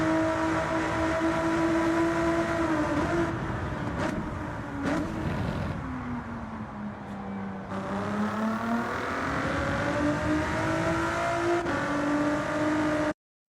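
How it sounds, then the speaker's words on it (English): A Porsche engine in a racing video game on the Deep Forest circuit drones and revs, pitch climbing, dipping, then rising again as the car accelerates. The engine is loud and close and runs continuously before cutting off abruptly. "we're revving the engine on my Porsche"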